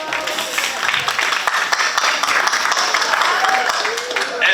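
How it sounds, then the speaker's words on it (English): An audience at a Family Action Network Movement immigration summit applauds, a dense, steady wash of clapping at moderate level throughout, with a voice faintly heard over it. "Please clap it up."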